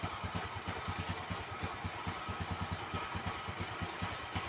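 A motorbike engine runs steadily close by, its idle a fast, even pulsing throb that continues without a break and with no voices over it.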